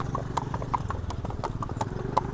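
Horse hooves clip-clop in a steady, brisk rhythm close by, each strike sharp and distinct.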